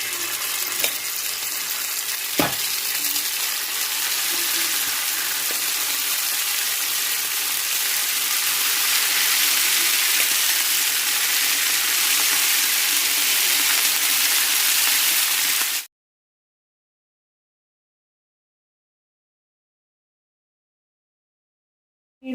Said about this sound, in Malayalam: ഈ വെളിച്ചെണ്ണയിലിട്ടിട്ട് ഫ്രൈ ചെയ്തെടുക്കാം.